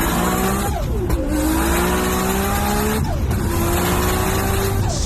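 A Nissan Skyline R32 with an RB engine drives hard, its engine note climbing steadily, dropping sharply at each gear change and climbing again, loud and close with no talk.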